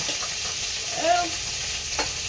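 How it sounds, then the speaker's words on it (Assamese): Pointed gourd fries in a pan with a steady close-up crackle and hiss. Soft scraping stirs come through in the middle, and a brief faint whistle-like tone rises once. "পটলখিনি ভাজি হৈ গ'ল"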